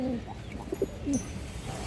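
A breeding pair of farm pigeons gives a few soft, scattered coos over a low rumbling background, faint and close, without any talk.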